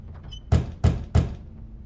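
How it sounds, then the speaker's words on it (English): Three sharp knocks on a door at an even pace, close and distinct, against a quiet room background. "How polite of you to knock"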